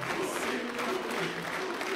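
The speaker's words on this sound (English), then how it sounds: "Oh, people cheering for Huni so far." A large arena crowd cheers and applauds continuously at a League of Legends EU LCS esports match, a steady dense roar with rising shouts.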